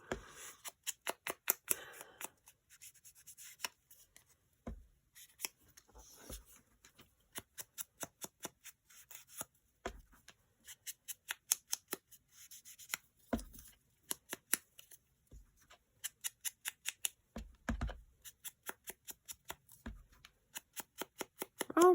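Scissors snip through fabric for junk journal covers in a long run of crisp, close cuts, some in rapid bursts and others spaced apart, with brief pauses in between.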